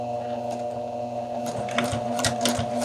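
Sewing machine running a number 2 stitch along a jacket collar seam, a steady close mechanical hum with a fast stitching rattle and a few sharper clicks toward the end.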